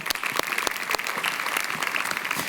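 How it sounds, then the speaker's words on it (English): A banquet audience at the Louisiana Family Forum Legislative Awards applauds a senator as he comes up, giving a sustained, even round of clapping with a few sharper claps near the start. "go ahead and give him a round of applause."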